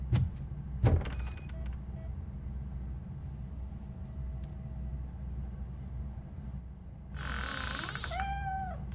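A cat meows in the video game RoboCop: Rogue City, a drawn-out, wavering cry near the end that follows a couple of heavy thumps and a stretch of quiet ambient hum.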